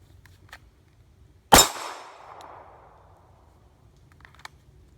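A Glock 42 pistol chambered in .380 fires a single sharp, loud shot at close range. The blast is followed by a ringing decay over about a second, with faint clicks and handling noises before and after in otherwise quiet surroundings.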